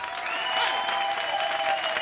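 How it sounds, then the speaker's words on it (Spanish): Theatre audience clapping loudly at the close of a live comedy show final, a dense, steady burst of applause that fills the whole moment. "Un fuerte aplauso,"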